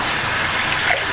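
Warm water runs steadily into a basin for a wool wash, a continuous close gushing and splashing that stays even in level for the whole short stretch.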